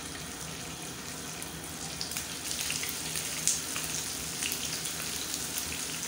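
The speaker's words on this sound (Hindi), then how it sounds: "अब मैं इसको एक एक करके फ्राई कर दूँगी" Marinated mutton masala chops fry in hot oil in a pan, a steady close sizzle with faint crackles throughout.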